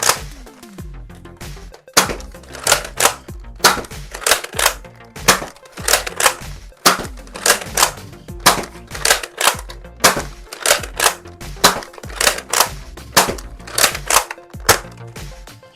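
An X-Shot Skins Lock toy blaster fires a long, steady series of sharp, snappy shots, each followed by a short mechanical clack, close and evenly spaced with short pauses.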